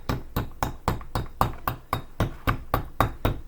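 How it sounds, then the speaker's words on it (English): A hammer strikes a block of ice again and again to smash it, about a dozen sharp, evenly spaced knocks, close and loud. "She's gonna keep on hammering till she gets something fun out"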